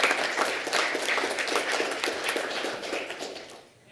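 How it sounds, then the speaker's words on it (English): A room of people applauds new senate members at a college senate meeting, steady dense clapping carrying on for several seconds before tapering off near the end. "Maybe a round of applause, and their term starts on June 1st."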